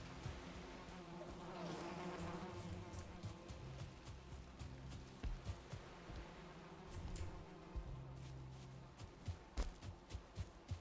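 Bees buzz at a beehive in Valheim, a faint, steady drone close by, with soft clicks and thuds scattered over it.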